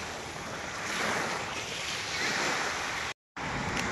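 Surf rolling onto the shore at Port Dickson, Malaysia, a steady broadband wash mixed with wind rumble, loud and continuous apart from a brief dropout near the end; no voices.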